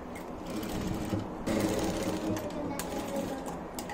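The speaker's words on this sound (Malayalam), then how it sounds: "ഈ ഉൾവശം എടുത്തിട്ട് ജസ്റ്റ് ഒരു സ്റ്റിച്ച് ഒരു മടക്കിൽ ഇങ്ങനെ ഒരു സ്റ്റിച്ച് ചെയ്ത് നമുക്ക് നിർത്താം" A sewing machine runs continuously, stitching a fold of net fabric into a vegetable storage bag, a steady close mechanical whir that briefly rises in pace midway.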